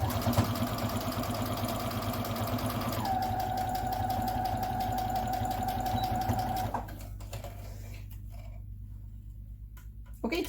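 A sewing machine stitches a fabric mask in a steady, close mechanical whirr that shifts pitch partway through, then stops, leaving a low hum and a few faint handling sounds.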